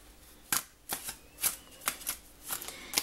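Good-quality paper oracle cards being shuffled, a series of crisp riffling bursts about every half second, close and fairly quiet with no talking.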